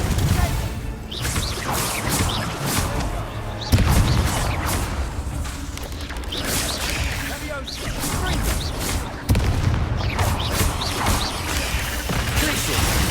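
Confringo fire-spell blasts in Hogwarts Legacy combat: repeated loud bursts and crashes, with sharp heavy impacts standing out twice, over a dense, continuous roar of battle noise.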